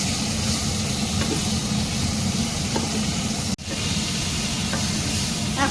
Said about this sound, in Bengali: এখনো ফ্রাই করছি।